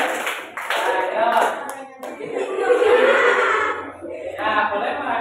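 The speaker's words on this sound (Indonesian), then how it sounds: "sambil tepuk tangan boleh nanti boleh" A group of people clap their hands in a classroom or school setting, steady clapping running throughout with voices talking over it.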